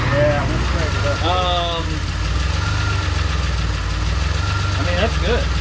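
A DeLorean engine with a newly installed idle speed motor idles steadily, a low even rumble close by, while people talk briefly over it.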